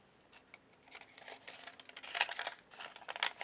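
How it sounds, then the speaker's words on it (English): Close, crisp snipping and rustling as scissors cut through folded wrapping paper, growing busier and louder toward the end. "now I will cut it out"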